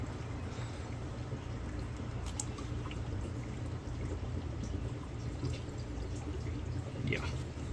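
Engine coolant pours and trickles from disconnected coolant hoses on a BMW X5 35d with the M57 diesel, a faint continuous liquid splash over low background rumble.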